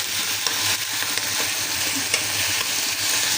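Ginger garlic paste hits hot oil in a pan, giving a close, steady, hissing sizzle with light stirring scrapes that continues without pause.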